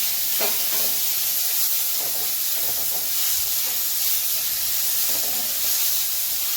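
Garlic-chili thecha hitting hot oil in a pan for crispy vegetable patties, giving a steady close sizzle and hiss with a few light scrapes and clicks, no talking.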